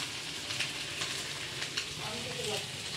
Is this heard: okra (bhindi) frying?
yes